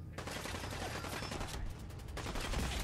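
Gunfire in Fallout 4 rattles out as sustained automatic bursts, loud and close, with a brief break partway through before the firing resumes.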